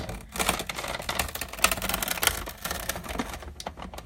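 A Big Shot die-cutting machine cranks with a rapid, ratcheting clatter of small mechanical clicks and thumps, close and fairly quiet, with no talking.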